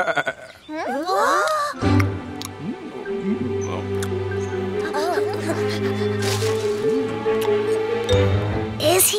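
A cartoon goat gives a wavering bleat near the start, followed by steady animated-show background music and character voices talking.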